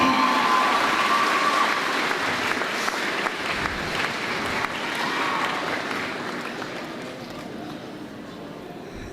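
High school seniors at a graduation ceremony give a round of applause to their parents, family and friends, a broad crowd clapping that starts full and gradually thins and fades over about nine seconds.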